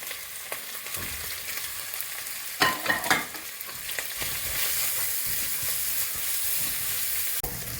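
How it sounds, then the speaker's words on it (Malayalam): Crushed garlic, ginger and sliced onion frying in a pan, a steady soft sizzle with occasional louder stirring scrapes and clatters, no talking. "വെളുത്തുള്ളി ഇഞ്ചി ഇടാം ഒപ്പം തന്നെ സബോള സ്ലൈസ് ചെയ്ത് വെച്ച സബോള"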